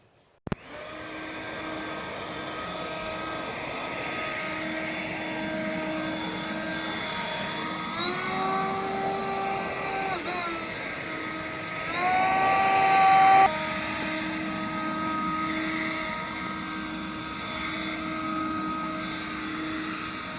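A Ryobi RY40470 40V cordless leaf blower runs steadily outdoors, a continuous whining motor hum with layered tones that swells briefly as the throttle rises, then settles back to a constant drone with no talking.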